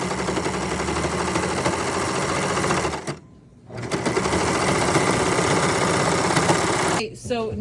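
A sewing machine runs steadily while stitching the crotch seam of pajama pants, a loud continuous mechanical whir that pauses briefly midway and again near the end, close up.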